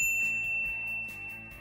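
A bright, high notification bell chimes clearly over soft background music, holding its tone briefly before fading.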